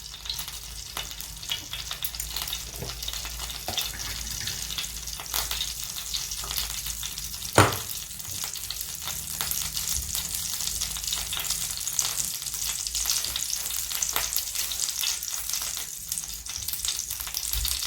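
Mustard seeds and cumin sizzling in hot oil, a steady close crackling hiss with small pops throughout and one sharp clink partway, no talk.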